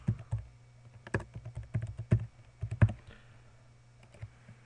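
Fingers type a login password on a computer keyboard, a quiet, irregular run of close key clicks in short bursts with small pauses between them, and no voices.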